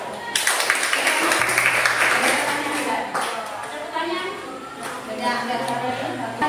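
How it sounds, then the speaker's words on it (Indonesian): Students in a physics classroom applaud a group after its presentation on relativity, a broad burst of clapping that swells quickly and tapers off, with voices speaking over and after it. "tepuk tangan untuk kelompok 1"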